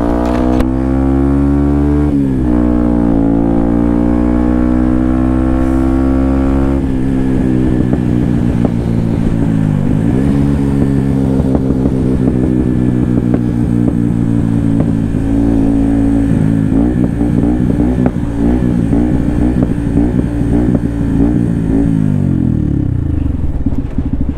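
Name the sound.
motorcycle engine revving with aftermarket exhaust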